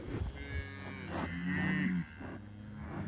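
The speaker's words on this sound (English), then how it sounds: "I got all these other cows angry with me" Cattle on an Alberta ranch during calving, with one cow giving a loud, drawn-out moo close by over a low background of other animals and farm noise.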